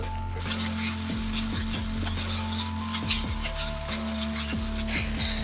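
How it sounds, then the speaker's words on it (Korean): Seaweed stems stir-fried with onion and carrot in a pan, giving a steady close sizzle with repeated scraping strokes of a utensil and a constant background hum. "어느 정도 볶아지면은 양파하고 당근 넣어주세요."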